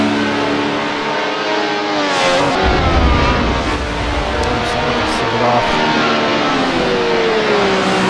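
A race car revs and accelerates through a lap, its engine note rising and shifting steadily and loud throughout, with a commentator's voice faintly mixed in.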